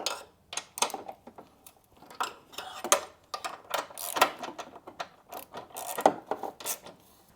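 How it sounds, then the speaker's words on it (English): A ratchet fitted with a 3/8 drive thin wall pivot socket working a nut in a tight spot on a 1991-2005 NSX car chassis, quick bursts of close clicking with short pauses between strokes, no speech. "I did have to switch to a 3/8 drive thin wall socket with a pivot on here because the space is a little tight with the chassis"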